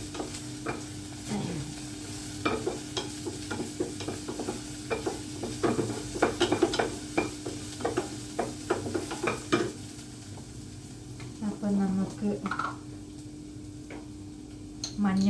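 Oil crackles and sizzles in a pan while mackerel fish curry is started, with a steady low hiss under irregular sharp pops and ticks and occasional stirring scrapes, fairly quiet and close, with no talking.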